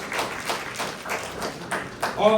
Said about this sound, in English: Round of applause for Cameroll.